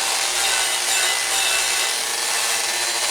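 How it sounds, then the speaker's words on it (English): A Dremel fitted with a wire brush scrubs corrosion from the threads of a Kubota hydraulic cylinder, giving a steady, close, hissing whir of bristles on metal with no talk. "So we'll do the same thing with the Dremel and the wire brush. We'll clean these threads up"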